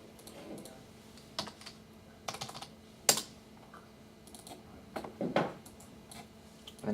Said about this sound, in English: I would type in the IP address on the internet